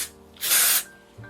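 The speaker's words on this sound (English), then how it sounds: "So I'm just gonna spray." Hair product sprays from a can onto curly hair near the roots: a single close, loud hissing burst lasting about half a second, then quiet.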